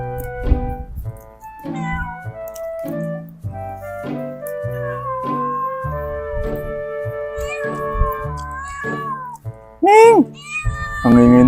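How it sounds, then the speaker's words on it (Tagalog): A cat meows loudly and insistently in Saudi Arabia, with repeated drawn-out cries close by and a sharp rising yowl near the end. "Ang ingay ng pusa."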